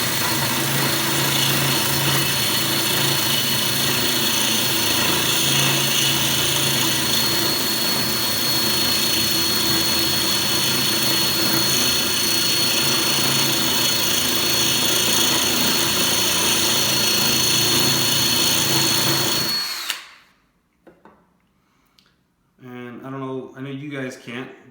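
A drill bit grinds a hole through aquarium glass for a 45 gallon reef tank, a loud continuous high whine that runs unbroken for about twenty seconds, then cuts off, followed by brief talking.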